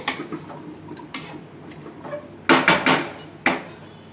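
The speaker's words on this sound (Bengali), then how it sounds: "ঘি দিয়ে আমি এটাকে নাড়িয়ে" A spoon scrapes and knocks against a pot while lau sukto is stirred with ghee, sharp irregular clinks and taps, several close together and louder toward the end, with no talk.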